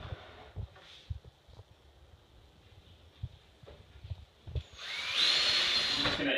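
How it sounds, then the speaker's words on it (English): A power driver sends long screws through the pre-drilled holes of bed slats into the support rail of a wooden captain bed, with faint knocks and taps early on, then a loud, sustained whirring drive near the end, no voices. "We're just gonna use the longer screws and go right through the pre-drilled holes and attach along the way."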